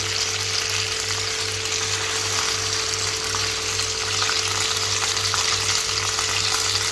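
Capsicum stir-fries in a pan for a restaurant-style chilli chicken gravy, giving a steady, loud sizzle with faint scraping of stirring and a low hum underneath, continuous throughout with no talking.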